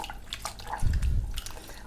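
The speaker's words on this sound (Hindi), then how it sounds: "और अब इसका सारा पानी निचोड़ देंगे।" A soaked kitchen cloth used for wiping the gas stove and counter slab is wrung out by hand, giving a brief close burst of dripping and splashing water over a low wet rumble.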